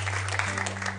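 Brief burst of studio audience applause for two cooking contestants on an Italian TV cookery show, a continuous crackle of clapping over a low steady hum.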